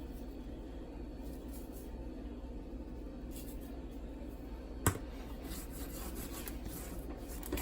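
Ground black pepper and garlic powder being rubbed by hand into a raw steak before oven baking, a soft continuous scraping friction at low level with one brief sharp tap near the middle.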